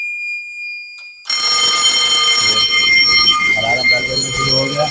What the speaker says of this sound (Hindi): अलार्म बेल बजना शुरू हो गया।